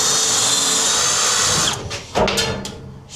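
A power drill whirs loudly and steadily while removing bolts during the strip-down of a van for a campervan conversion, then cuts out and restarts in short bursts before fading.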